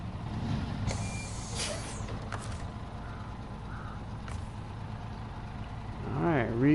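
A MK38 truck engine in SnowRunner rumbles steadily at close range, with a hiss of air and faint intermittent beeps, and a voice comes in near the end.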